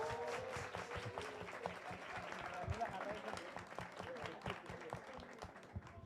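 A small audience at an informal science talk in a café claps in a steady burst of applause, fairly faint and distant, with a voice speaking over it.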